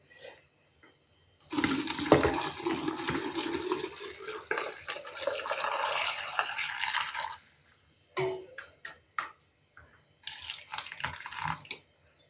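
Hot pickling brine for fermented cucumbers pours into glass jars in a steady, loud splashing stream for several seconds, then stops, followed by a few short clinks and another brief pour near the end.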